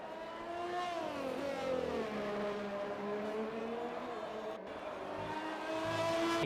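A Formula 1 car engine from the F1 2020 video game screams around a Monaco lap, the high revs climbing and dropping through gear changes with a brief cut near the end, loud and continuous with no voices.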